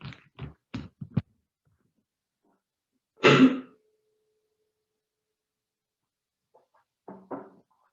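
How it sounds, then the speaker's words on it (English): A single loud, harsh cough in a quiet yoga class room with singing bowls, preceded by a few soft breathy sounds and followed by faint rustling. "Sorry, I made all the singing bowls sing with that cough."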